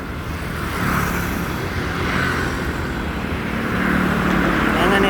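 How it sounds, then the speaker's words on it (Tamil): A city bus pulls in and stops at a stop near a children's hospital gate in Puducherry, its engine rumbling steadily amid traffic noise and rising slightly as it nears. "ஒரு பஸ்ஸு வருது, அந்த பஸ்ஸு வந்து எங்கே நிறுத்துறாருன்னு மட்டும் பாருங்கள்"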